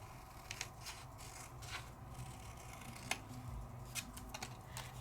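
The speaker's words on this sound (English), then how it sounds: "When you cut, you turn the paper, not your scissors." Quiet, intermittent snips and rustles of scissors cutting paper, close by, with soft handling sounds between cuts.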